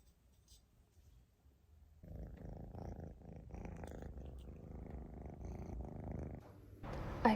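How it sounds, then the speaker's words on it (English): Close, low steady purring from a cat in a Paris apartment, continuous rumbling that starts softly and swells after a couple of seconds, alone without talk. "all the cats have come out"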